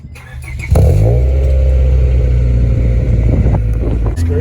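A Honda Prelude fitted with a test pipe fires up with a sharp catch into a loud, raspy, low idle that holds steady and close, with wind buffeting the microphone.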